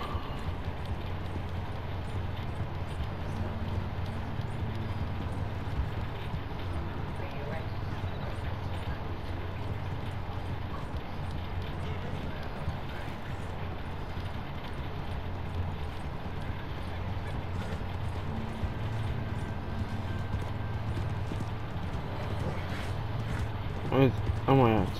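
Quick, rhythmic hoofbeats of a galloping horse in the video game Red Dead Redemption 2 run continuously under a low background hum and someone talking, ending with a few sharper clatters.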